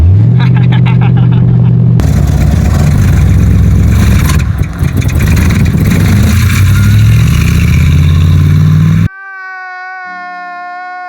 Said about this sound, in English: So she's definitely backfiring a bit, and she's not really liking a launch.